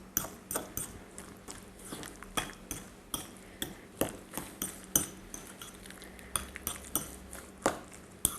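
Utensils clink and scrape against a bowl as vegetarian nachos ingredients are mixed, a quick run of sharp, close, irregular taps with no talking.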